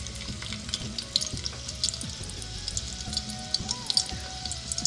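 Garlic sizzling in hot oil in a pressure cooker, a steady crackling fry with scattered sharp pops and a low, constant bubbling undertone throughout.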